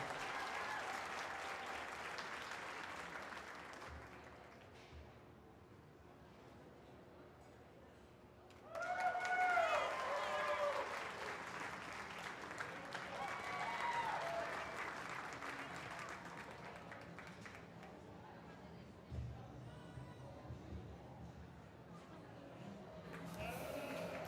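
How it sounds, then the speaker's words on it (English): A crowd at a state fair sheep showmanship event gives a round of applause that swells and fades, with an announcer talking before and after and animal bleats faintly in the mix. "One more round of applause for all of them."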